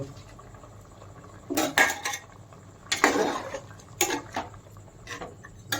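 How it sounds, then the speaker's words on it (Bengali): Chicken with chicken masala being stirred in a metal pot for biryani, a few clear scraping and clanking spoon strikes against the pot at irregular intervals over a low steady background. "একটু নেড়ে নেব"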